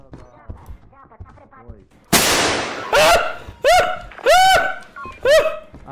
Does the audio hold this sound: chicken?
no